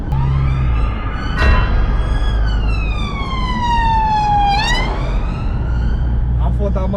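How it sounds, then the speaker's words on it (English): A loud, close police siren wails, its pitch sweeping slowly down and then sharply back up, over a low engine rumble. "I can hear police sirens."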